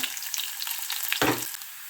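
Mustard seeds, garlic and chillies sizzle and crackle in hot oil during the tempering for a parippu (lentil) curry, a steady close hiss with a louder spitting burst partway through.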